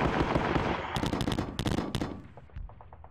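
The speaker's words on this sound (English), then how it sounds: "Gotta shoot the partisans up." Gunfire from a wargame on the Sealion '40 invasion scenario as units shoot at partisans: a short cluster of sharp cracking shots and rattling bursts that fades out at the end.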